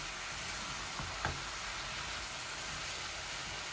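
Chicken breast cooking with radish in a pan, a steady soft sizzle throughout with a couple of brief clicks from stirring, no voices.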